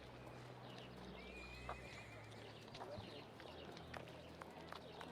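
Horse hooves clip-clop on a street in a Sherlock Holmes video game set in Victorian London, with a brief whinny. The sounds are faint and steady against a low background hum.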